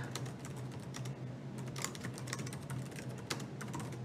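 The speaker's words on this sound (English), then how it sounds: "once you click on the question, you get to type in the question field" Quiet, close typing on a computer keyboard, with rapid irregular key clicks going on steadily under a faint background hum.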